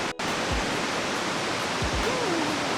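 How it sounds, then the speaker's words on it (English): Large waterfalls near Mostar, Bosnia and Herzegovina, pour in a loud, steady, broadband roar that fills the whole clip, close by and unbroken. "These waterfalls are huge."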